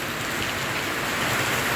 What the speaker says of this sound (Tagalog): May araw eh pero umuulan